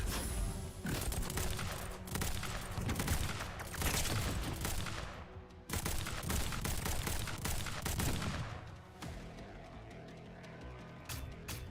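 Explosions and gunfire roar through a bombing run in the video game Girls' Frontline, a dense, loud barrage with bursts and heavy booms rolling on nearly without pause, no voices.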